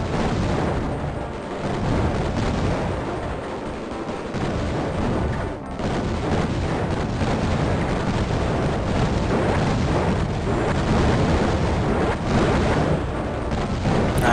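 Romulan warbirds in the Raptor video game fire projectiles amid a dense, continuous wash of booming explosions and gunfire-like blasts, loud and sustained throughout with no talking.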